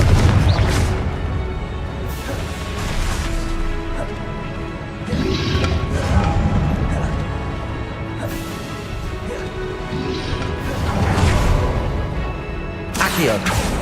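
Repeated Confringo spell blasts in Hogwarts Legacy, a series of booming, crashing explosions going off every few seconds over a dense game soundscape, with a voice speaking at times.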